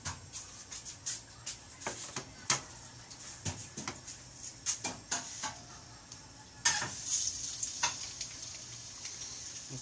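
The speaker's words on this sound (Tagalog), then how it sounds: "Tapos, lagyan natin yung bawang." Garlic sizzles in oil in a pan while cooking pancit canton, with quiet steady frying broken by frequent sharp scrapes and clinks of a utensil against the pan, faint and close.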